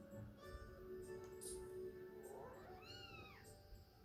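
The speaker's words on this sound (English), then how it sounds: "Now we're gonna see the perfect little kitty." A cat meows in The Legend of Zelda: Skyward Sword, with one rising and falling meow near the end over steady game music and ambience.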